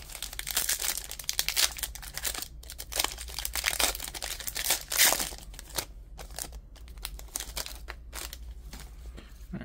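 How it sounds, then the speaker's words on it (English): A 2024 WWE Select wrestling trading card being slid into a plastic sleeve, heard as close, continuous crinkling and rustling of thin plastic with brief pauses, no speech. "Let's go sleeve this up."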